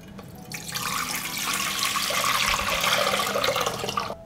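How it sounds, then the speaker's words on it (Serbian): Two litres of water pouring into a pot, a steady, bright rushing splash that starts abruptly and continues evenly to the end, with no talk. "U šerpu sipam 2 litre vode."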